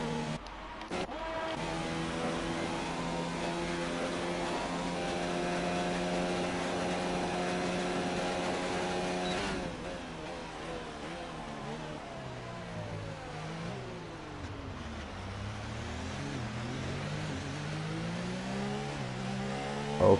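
A Formula 1 race car engine screams through a flying lap on the Italy circuit in an F1 video game, steady high revving tone that drops and climbs again through gear changes and braking, loud and continuous with no talk.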